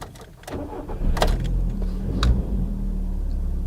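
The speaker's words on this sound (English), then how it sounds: "let's fire her up then" A Volkswagen Golf Mk5 petrol engine cranks briefly and catches, then settles into a steady low idle rumble heard from inside the car, with a few clicks and knocks around the start and no talking.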